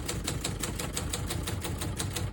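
Keys struck on a 1971 Adler J5 vintage portable typewriter, a quick even run of crisp close-up clacks, about a dozen strokes in two seconds with no talking.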